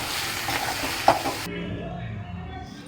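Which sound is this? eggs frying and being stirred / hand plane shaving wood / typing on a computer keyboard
eggs frying and being stirred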